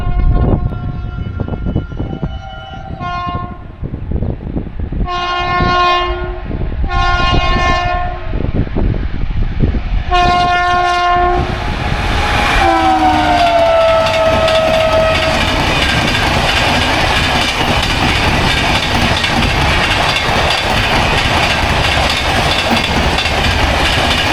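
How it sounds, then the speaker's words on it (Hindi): The 12059 Kota Nizamuddin Jan Shatabdi Express of Indian Railways rushes past at high speed on a windy, stormy morning. Several loud horn blasts come first, then a long, roaring rumble of wheels and carriages as it passes close by. "ये थी भाई अपनी 12059 कोटा निज़ामुद्दीन जनशताब्दी एक्सप्रेस, यानी कि इंडियन रेलवेज़ की फास्टेस्ट जनशताब्दी।"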